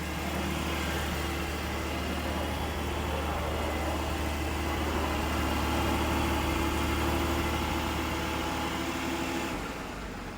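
A Porsche 718 Cayman GTS with its 4.0-litre flat-six idles outside in a smooth, steady low rumble, close by and unbroken, fading slightly at the very end. No voices.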